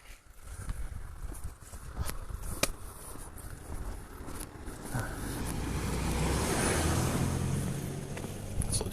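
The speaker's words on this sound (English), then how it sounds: "Oh dear, 2 cars." Cars pass along a quiet rural road near the coastal path, a swelling rush of tyre and engine noise building and fading, with footsteps and light rustling close by.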